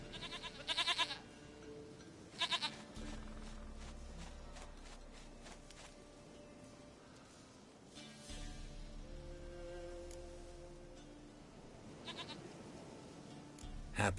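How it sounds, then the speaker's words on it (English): A goat in The Witcher 3: Wild Hunt gives short bleats in a few separate bursts, fairly faint, over a quiet outdoor game ambience with a low background rumble. "Goat of mine, dearest, sweetest goat."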